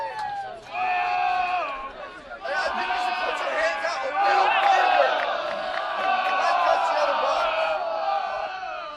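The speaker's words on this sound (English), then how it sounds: "Crowd making some noise" Spectators at a high school baseball playoff game roar and cheer, a loud, sustained wall of whoops and shouting that swells after a brief dip and keeps going.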